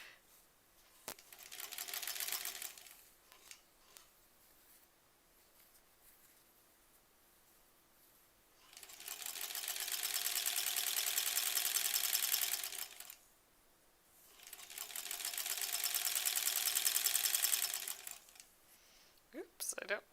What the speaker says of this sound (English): Oops, I don't want to accidentally sew in another piece here.